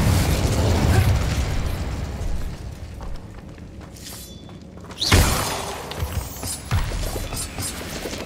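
Confringo fire-blast spell explosions in the video game Hogwarts Legacy: a sharp, loud blast bursts out midway and a smaller pop follows later, over a busy game soundscape with no talking.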